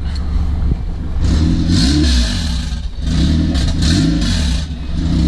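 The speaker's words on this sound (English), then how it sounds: "Rev it up a little bit." A racecar engine revs up twice, rising into loud roaring surges that drop back between, heard up close.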